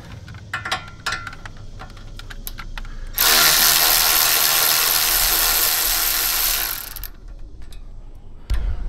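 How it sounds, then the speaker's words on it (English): Clicking ratchet work on a 12mm socket near a Toyota Tacoma spindle, followed by a loud, steady whirring run of a power tool for several seconds, then more clicks, all close with no voices. "In order to remove it, we're going to be using a 12mm socket."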